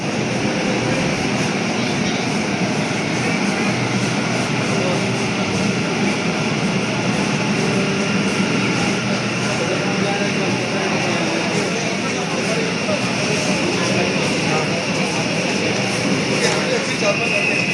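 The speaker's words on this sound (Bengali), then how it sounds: "তো আমাদের ট্রেন ঢুকে গেছে," A train pulls into a busy Indian railway station with a continuous loud roar and rumble of wheels and engine that holds steady throughout, mixed with the crowd's background noise.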